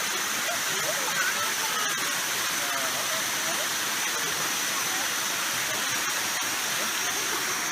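Waterfall at Bua Tong sticky waterfalls near Chiang Mai, a steady broadband rush of falling water filling the scene without letup, with faint scattered sounds of people moving nearby.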